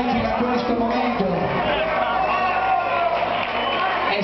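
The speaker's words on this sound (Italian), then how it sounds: "Ancora un applauso per gli emergenti fino a questo momento" Crowd cheering and whooping for emerging acts at a live club show, a dense, continuous roar of voices with shouts throughout and no clear clapping.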